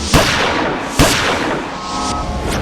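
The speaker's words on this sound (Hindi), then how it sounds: "गोलियों की आवाज सुनकर वहां लोग तो इकट्ठा हुए" Two sharp gunshots about a second apart, loud and close, each with a short echoing tail, followed by a faint lingering hum.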